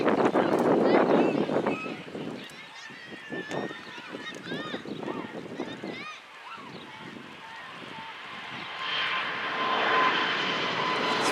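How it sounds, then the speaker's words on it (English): Fixed-wing airplane passing overhead during a summer softball game at Warwick, its engine drone swelling toward the end, with people talking and crowd noise loud over it for most of the clip. "That's the end of this one as the plane flies away."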